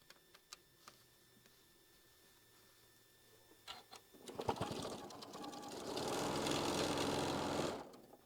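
A sewing machine runs a quarter-inch seam on a quilt block, starting with a few scattered clicks and short bursts, then settling into a loud, steady continuous whir before stopping.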